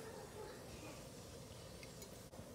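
Oil heating in a hot pan gives a soft, steady sizzling hiss for a few seconds, quiet and close, with a faint clink near the end.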